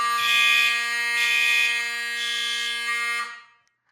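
A basement fire alarm system sounds during a test, a loud steady electronic tone pulsing in a few bursts before cutting off abruptly, with no talking.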